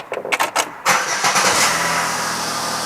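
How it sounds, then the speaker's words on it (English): A 2011 Chevrolet Impala engine cranks briefly and fires up, then settles into a steady, even idle, heard close and clear with no talking. "We start up the car."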